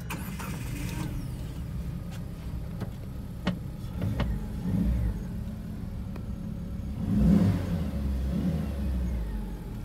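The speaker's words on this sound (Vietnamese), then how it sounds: "mình nổ xe cho nên nghe tiếng động cơ" An SRM 930 kg van engine turns over and settles into a low, steady idle rumble, with a few clicks early on and a slight rev partway through.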